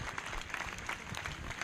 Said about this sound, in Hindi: तालियों के साथ, तालियों के साथ।